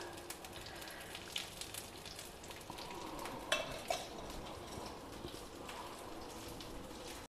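Aloo bondas frying in a pan with a few drops of oil added, a steady soft crackle and sizzle running throughout with a couple of sharper pops near the middle.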